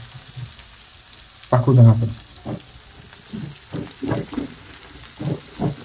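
Onions frying in a pan for a home-cooked chicken dum biryani, a steady sizzle with a louder burst of stirring near the middle, while a voice talks over it in places.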